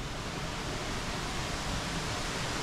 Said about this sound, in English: We got a little waterfall.